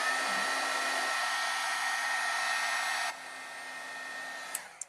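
A hair dryer blows steadily on a wet watercolor painting, a loud continuous whir that drops to a lower setting partway through, then clicks off near the end.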